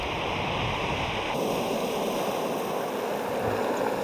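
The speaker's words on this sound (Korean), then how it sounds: "몽돌에 부서지는 파도는 눈부시게 하얀 토마를 만들어 놓았다" Waves break on the pebble beach at Étretat in Normandy, a continuous loud wash of surf with a rushing, hissing roar, close and steady, with no voices.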